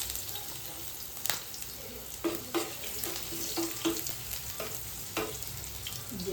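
Ginger and garlic fry in a pan of hot oil for a homemade pickle, with a steady sizzle broken by repeated clinks and scrapes of a spoon stirring against the pan.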